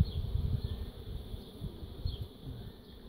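Honey bees buzz steadily at an open hive frame on an overcast, cool day, a continuous soft drone with a few brief louder passes close by and no voices.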